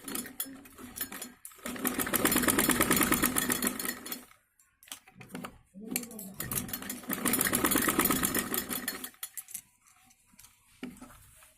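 A sewing machine runs in two long stitching bursts along kameez kurti seams, with a steady rapid clatter separated by pauses and short start-stop whirs.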